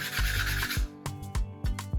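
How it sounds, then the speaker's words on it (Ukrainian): Sanding of a wooden sailing-ship hull section model: one long, close, scratchy stroke, then four quick, even rasping strokes in a steady rhythm, with no talking. "Далі ми шліфуємо."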